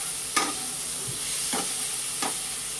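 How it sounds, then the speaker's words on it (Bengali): Tomato dropped into a little hot oil in a home kitchen pan while cooking chicken and pointed gourd, giving a steady close sizzle with a few stirring scrapes and no talk. "যেহেতু তেলটা কম আছে, একেবারে টমেটোটা দিয়ে দিলাম।"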